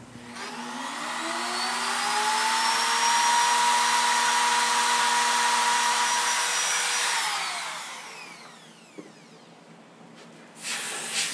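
A power tool whines steadily while cutting a nut slot in the wooden peg head of a handcrafted guitar. The whine is close and loud, holds for about seven seconds, then winds down, and a few faint knocks follow.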